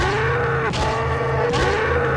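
A cow in the Resident Evil 4 video game, in a rural village setting, lets out a loud, sustained low moo lasting the whole stretch, with a brief rougher break partway through and no speech over it.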